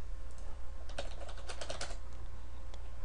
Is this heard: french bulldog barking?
no